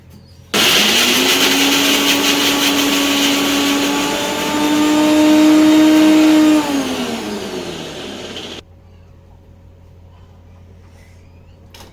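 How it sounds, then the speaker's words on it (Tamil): A mixer grinder grinds grated coconut without water, whirring loudly for about eight seconds, its motor pitch rising slightly mid-run, then cuts off abruptly, leaving quiet room noise. "அதனால் மிக்ஸி ஜாரில் வந்து தண்ணி விடாமல் சும்மா லைட்டாக வச்சு போட்டுக்கிறேன்."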